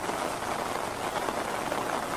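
Steady rain falls without a break, a dense even hiss of drops on surfaces, loud and close, with no voices.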